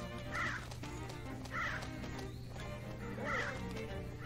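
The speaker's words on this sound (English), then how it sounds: "These crows are gonna be very annoying though." Crows cawing in the Switch remake of The Legend of Zelda: Link's Awakening, three harsh game-sound caws spaced about a second apart, each short and clear over a low, steady background hum.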